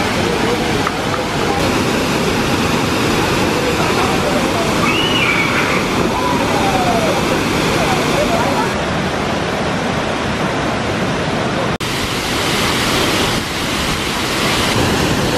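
Steady loud roar of rushing water from Kawasan Falls in Cebu, Philippines fills the whole stretch, broadband and unbroken, with faint calls and voices barely audible underneath.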